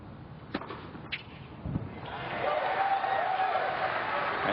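At a Cincinnati 2016 semifinal tennis match between Dimitrov and Cilic, a few sharp racquet and ball thwacks ring out before a hard ace serve. Sustained crowd applause then swells and holds steady.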